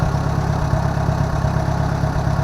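A tractor engine with a new distributor cap, rotor, plug wires and spark plugs idles steadily at close range, a continuous low rumble with an even throbbing pulse and no talk over it.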